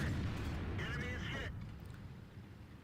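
A shell strikes the side armor of a Ferdinand, a German Tier VIII tank destroyer in World of Tanks, as a loud, dense rumbling impact that rings with metallic resonance, then fades into a lower, rougher roar.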